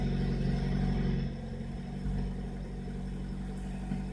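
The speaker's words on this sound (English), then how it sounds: "Even idles better." A Honda D16 engine idles steadily at close range, a low, even rumble with a slight dip in level partway through and no voices.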